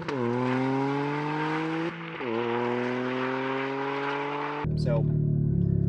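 A deep, throaty three-cylinder Toyota GR Corolla exhaust with an MBRP catback drones and rises in pitch as the engine revs, briefly dipping before climbing again, then cutting to a rougher idle.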